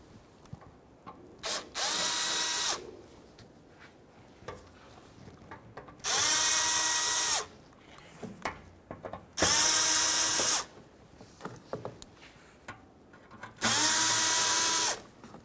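Power drill backing out four Phillips head screws from the front bumper valance of a 2005-2021 Nissan Frontier, four loud whirring bursts of about a second each, separated by quiet handling clicks.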